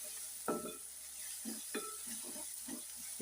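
Onions nearly browned in a pan give a faint steady sizzle, broken by several distinct metallic scrapes and knocks of a spoon stirring against the pan.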